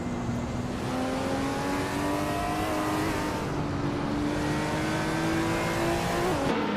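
Race cars lapping Snetterton 200 in a racing video game, a 2018 Toyota FT1 GTE among them, hold a loud, steady engine drone with long rising and falling tones and a shift near the end, with no talk.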